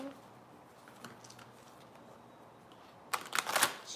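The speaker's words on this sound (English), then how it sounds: "Let me go ahead and mix these cards up." Vintage Stamp Love Oracle cards being mixed by hand, faint scattered taps for a while, then a short louder burst of crisp riffling near the end, with no talking.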